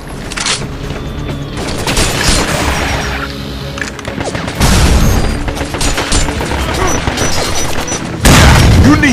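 Booming grenade explosions and heavy gunfire in the Binary Domain shooter game, loud and dense throughout with sharp blasts near the middle and end, while someone talks over the battle.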